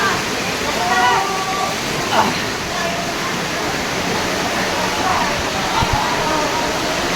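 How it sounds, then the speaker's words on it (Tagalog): Floodwater rushes loudly and steadily during Typhoon Aghon, a dense continuous roar of moving water with faint voices barely audible beneath it. "Grabe po, taas ang baha. Yan, ang bilis na pag-akit ng baha"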